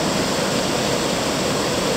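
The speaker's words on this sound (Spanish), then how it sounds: "Aquí tenemos otra fuente, el Camín del Valliquín," Water running steadily from the Camín del Valliquín fountain in Pedrao, Gijón, Asturias, near the source of the Peñafrancia river: a close, loud, continuous rushing wash with no voices.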